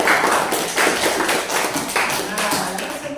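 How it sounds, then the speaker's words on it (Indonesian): A class of students applauds after a lesson on writing short stories, with a burst of quick, dense hand claps near the microphone that tapers off over a few seconds. "Oke, kasih tepuk tangan dulu teman-teman."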